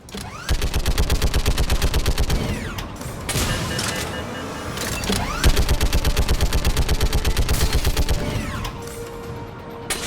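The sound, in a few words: gunfire from the video game Mass Effect 3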